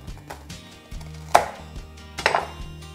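A knife cuts through champagne sponge biscuits in a kitchen, producing two sharp, crisp crunching strikes about a second apart, with softer handling noise and a low steady hum underneath. No one speaks.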